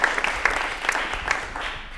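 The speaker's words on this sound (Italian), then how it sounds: "Si merita l'applauso festoso." Brief, lively applause from a television studio audience, a dense patter of many hands clapping together for about two seconds before it fades slightly.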